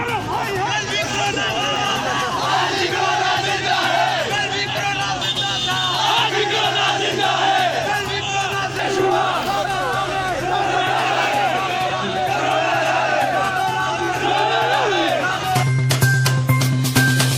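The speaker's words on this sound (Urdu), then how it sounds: "یونیورسٹی کے مین گیٹ کے باہر طلباء کا کورونا کے حق میں نعرے بازی" Students chant slogans in a loud, continuous crowd outside Hazara University's main gate, voices overlapping in rhythmic shouts with a sharper burst near the end.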